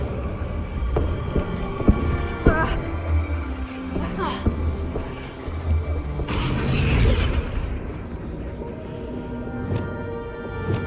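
In Hogwarts Legacy, a Confringo blasting spell goes off amid game sounds: several deep, heavy booms with rumbling tails and a sustained roaring burst midway, loud and close, with a voice speaking over parts of it.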